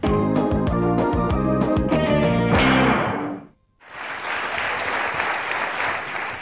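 Loud music with a strong beat fades out, a brief near-silence follows, then a live audience breaks into dense, sustained applause that fills the room evenly.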